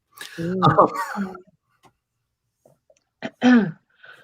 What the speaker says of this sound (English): Excuse my coughing fit